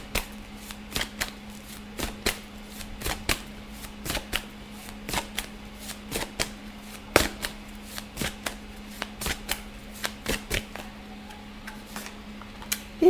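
Tarot cards being shuffled by hand, a long run of sharp, close card snaps and riffles recurring at an uneven rhythm over a steady low hum.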